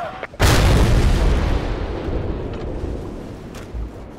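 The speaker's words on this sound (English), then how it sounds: "I'm going to use this Gvozdika self-propelled gun" A Gvozdika self-propelled gun fires once in the video game Battlefield Iraq, a single heavy close boom followed by a long, rolling rumble that slowly fades.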